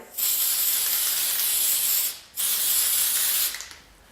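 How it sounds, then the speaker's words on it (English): Aerosol spray can spraying onto a cake embossed with patchwork cutters, two steady loud hissing bursts close up, the second cut off short. "You can place this into a box if you want to contain the spray."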